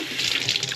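Cold tap water runs from a faucet in a brief, steady splashing gush, close and fairly loud, with no voices.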